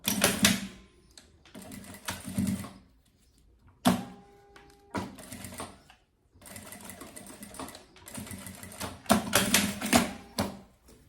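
A sewing machine stitches a handmade travel carry-on bag in several close bursts of fast rhythmic needle chatter, separated by short pauses and handling noises.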